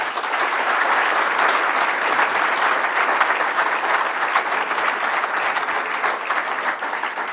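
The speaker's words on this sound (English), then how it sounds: "Let's give Kurt a round of applause." Sustained audience applause for speaker Kurt Voss after a talk, dense and steady clapping from a crowd filling the whole stretch at an even level, with no talk over it.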